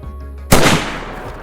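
A single big gunshot in DayZ bursts out abruptly after a quiet moment, loud and close, then rolls off into a long fading echo tail.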